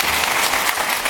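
A brief burst of dense studio applause from a crowd at a televised competition show, loud and continuous with no speech over it.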